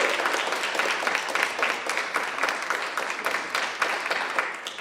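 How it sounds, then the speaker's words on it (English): Steady audience applause at a college parliamentary debate tournament awards ceremony, a dense wash of many hands clapping at even loudness for several seconds without talk. "So everybody give a round of applause for Whitman"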